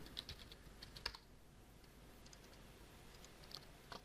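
Password keys tapped on a computer keyboard in quick irregular bursts of light clicks, fairly faint against a steady background hiss, with no talk.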